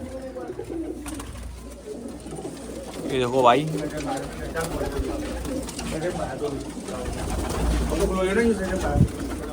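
Many pigeons coo in soft, rolling burbles close by, layered with flapping and shuffling, while someone speaks briefly over them.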